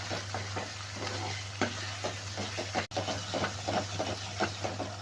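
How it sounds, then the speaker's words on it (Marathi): Ground masala paste with chilli roasting in hot oil in a kadhai, a continuous soft sizzle with rhythmic stirring scrapes and one sharp click partway through, no voices. "कढईमध्ये तेल टाकून छान असा हा मसाला भाजून घ्यायचा."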